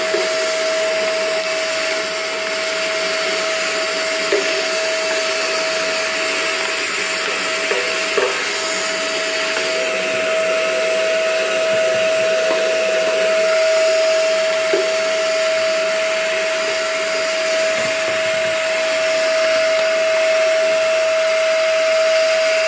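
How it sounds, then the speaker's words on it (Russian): Vacuum cleaner running steadily and loudly with a constant whine, picking up soot and debris after cleaning the tubes of a NIBE Biawar Pellux 200 pellet boiler, with occasional light knocks and no talking. "То, что тут сейчас вылетело, подберем пылесосом."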